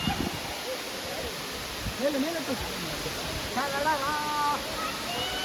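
Koodlutheertha waterfall gives off a steady, even rushing roar that fills the whole scene, with people talking over it.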